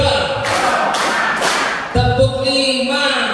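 A group at an Indonesian teachers' workshop claps three times in unison, loud and evenly spaced, then voices briefly chatter right afterward.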